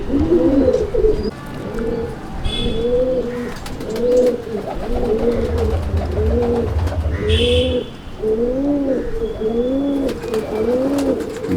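Domestic pigeons coo in a pigeon loft, a steady series of rhythmic, rolling coos repeating close by, with occasional faint chirps and a low rumble underneath.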